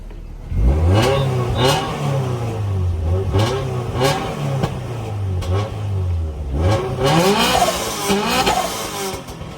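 A Honda Civic EG with a B20B engine revs hard several times, each pull rising and falling in pitch, loud and close, with short turbo flutter bursts between the revs.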